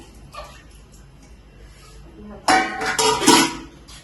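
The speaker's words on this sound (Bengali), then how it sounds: "এইগুলো সব মেজে দিলাম, পরিষ্কার করে দিলাম" Dishes and pots being scrubbed and washed in a home kitchen, starting as faint rubbing and then turning to loud, close clattering and clinking of metal utensils during the last second and a half.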